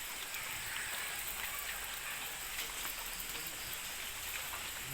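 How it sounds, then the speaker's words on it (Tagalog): Light rain falls steadily outdoors, a soft continuous hiss of drops spread evenly across the whole stretch with no voices. "Maulan-ulan na naman."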